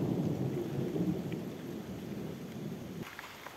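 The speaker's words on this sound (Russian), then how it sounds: "Гром, гроза, ливень, и вся природа ожила" Thunder rolls in a long, deep rumble through a tropical summer downpour in the Moscow region, with steady rain hissing underneath and the rumble slowly fading.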